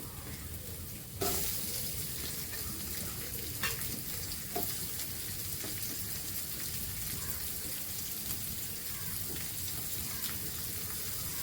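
Onion pieces fry in a pan with ginger, cumin, chana dal and urad dal, a steady dense sizzle starting with a sharp burst after a second and continuing evenly close by, with a few faint stirring knocks.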